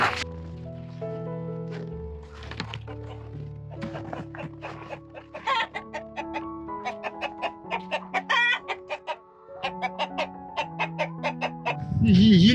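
Five or six chickens at a coop beside a hillside house in rural Jeongseon cluck in quick uneven bursts, close and fairly loud, with a rooster's crow rising at the end.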